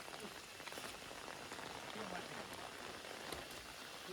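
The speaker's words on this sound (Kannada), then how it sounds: "ಮಳೆ" Rain falling on a surface near a Tata Tiago stuck in mud, a steady faint patter and hiss filling the whole stretch.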